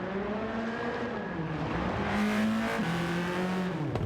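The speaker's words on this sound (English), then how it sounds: "with dirt tires, it has a lot of wheel spin because dirt tires were not meant for tarmac" A race car in Gran Turismo 7 spins its dirt tires on tarmac, its engine droning steadily at high revs with pitch wavering and dipping as the wheels slip, loud and continuous.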